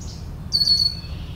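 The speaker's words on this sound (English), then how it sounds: "Yellow warbler right away." A yellow warbler sings a single brief, clear phrase of high whistled notes in the open outdoors, fairly close, over a low steady background rumble.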